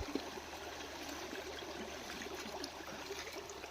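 Steady rush of water flowing through a breached earthen dam on a village river, a continuous even gush outdoors with no voices.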